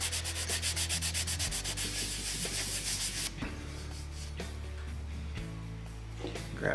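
Steady rubbing and wiping strokes across a hard metal rail surface, repeated in a continuous back-and-forth rhythm, close up with no talking.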